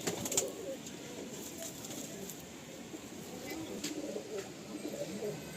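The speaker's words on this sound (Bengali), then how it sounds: "আচ্ছা, এটা নর পায়রা," Pigeons in a loft holding over 250 Pakistani pigeons coo softly in the background, a faint, continuous murmur of overlapping calls with light rustling, fairly distant and low in level.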